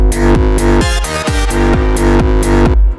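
Dry FM growl synth in an electronic dance track, loud and up front, with rhythmic bursts of gritty bass that sweep down in pitch several times in a few seconds, with no other sounds.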